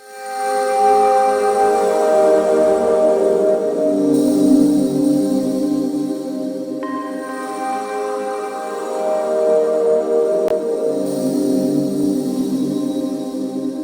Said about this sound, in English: So kind of like a weird glitchy type of pad sound